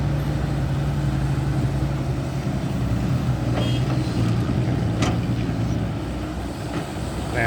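Heavy machinery rumbles steadily near a Fuso six-wheel dump truck as an excavator, a SANY SY215C-10, loads it with soil, with a constant low engine drone and occasional faint clanks on top.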